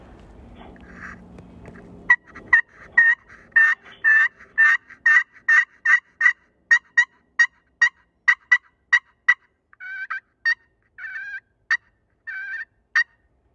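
A friction turkey call played with a carbon striker gives a rapid run of sharp yelps, about two per second, then softer clucks and purrs, close and clear.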